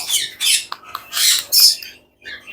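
A pet parrot in a bird shop gives a series of loud, harsh squawks close by, in bursts with short gaps and no talking.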